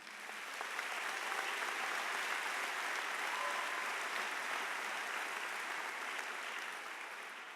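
A large crowd claps and cheers at a college commencement ceremony, a dense sustained wash of applause that fades in, holds loud, and tapers slightly at the end.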